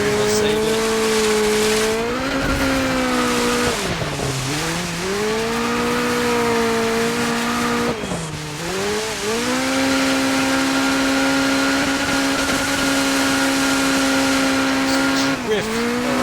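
A rally car in the racing game DIRT 5 drifts and skids, its engine howling and swooping in pitch as it revs up and drops back, with tire noise and loud, continuous playback throughout.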